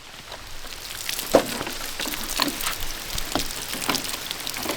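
Rain falls outdoors at a shooting spot, a fine steady patter of scattered drops with a few sharper taps, close and moderately loud, with no talk.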